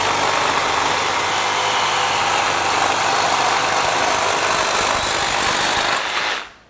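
A FLEX FX2271 24V brushless cordless reciprocating saw with a carbide-tipped blade cuts through a 4x4, giving a loud, steady buzzing motor-and-blade roar that runs unbroken for about six seconds, then cuts off abruptly.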